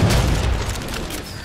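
An incineration cannon shot explodes in Halo 4 multiplayer as a loud, dense boom that fills the whole moment and rumbles on without a break.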